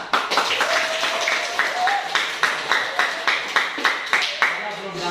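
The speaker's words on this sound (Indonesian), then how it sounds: "Tepuk tangan sana." A classroom group claps hands in a quick, uneven patter of distinct claps, fairly close, while voices talk and call out over the clapping.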